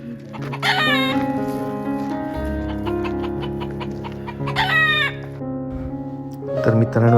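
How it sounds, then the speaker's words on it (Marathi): A white rooster in a Konkan village clucks in short repeated bursts and lets out loud crowing calls close by, with a brief voice joining near the end. "या कोंबडा बघा किती मस्त व्हाईट व्हाईट सुंदर असा"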